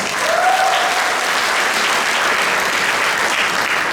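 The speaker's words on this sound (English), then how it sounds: "Give yourselves a round of applause." Loud, dense applause from a large audience at an education convocation, sustained and even throughout with no voices breaking through.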